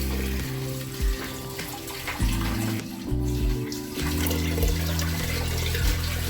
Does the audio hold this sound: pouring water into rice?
yes